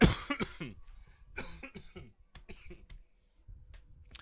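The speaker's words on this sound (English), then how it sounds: "is that why I'm coughing?" A burst of sharp, close coughs opens, followed by quieter throat noises and scattered clicks.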